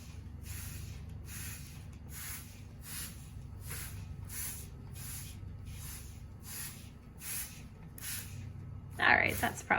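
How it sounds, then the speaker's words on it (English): A handheld spray bottle spritzes water onto paper in a regular series of about a dozen short hissing bursts, close by, with a soft low room hum underneath. "they're just going to spray it until it's pretty wet"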